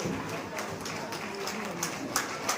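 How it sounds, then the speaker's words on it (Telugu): Crowd clapping at a municipal public celebration event in Jammikunta, Telangana: continuous dense applause heard up close, with a few sharper individual claps standing out near the end. "చప్పట్లమ్మా చప్పట్లు నేను కూడా చప్పట్లు కొడతాను"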